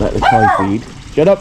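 A pet dog gives a couple of short, loud barks beside a backyard koi fish pond, close to the microphone and mixed in with a voice speaking over them.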